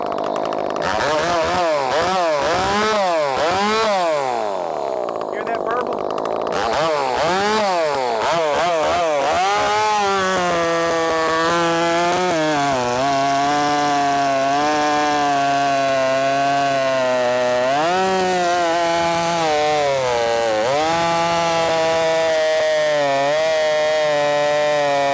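A ported, customized Echo 590 chainsaw revs up and cuts wood, a loud close engine that rises and falls with the throttle, then holds a high steady roar through the cut with brief dips, and no speech.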